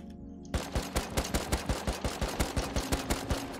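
Automatic gunfire in the survival game Rust, a loud, rapid, evenly spaced burst of around a dozen shots ringing out after a brief quiet moment.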